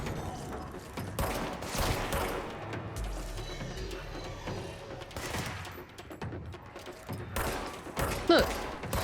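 Gunfire in the video game Control, irregular bursts of sharp shots and thuds clustered at intervals, fairly close and punchy amid ambient game noise.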